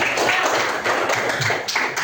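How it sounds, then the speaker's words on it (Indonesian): A grade 7 classroom of students claps together, a loud, steady burst of many hands close by, with little talk. "Tepuk tangan dulu."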